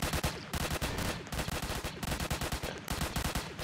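A beam launcher in the Roblox game Zombie Attack fires rapid, continuous bursts of gunshots, a dense rattling barrage that stays loud and even throughout.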